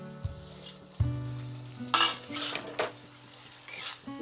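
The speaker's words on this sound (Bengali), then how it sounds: "এবার দেব মাছটা।" Small buroli fish go into a pan of hot oil with ginger paste and cumin powder, bursting into a sizzling fry with stirring clatter and a few sharp bursts, close by and without talk.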